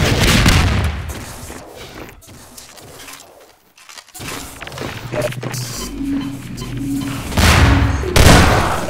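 A rocket explosion in a Half-Life 2 Deathmatch match, heavy booming blasts and gunfire loud and close, a brief near-silent gap, then more shots and a strong final burst amid game noise.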